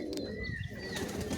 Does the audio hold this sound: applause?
no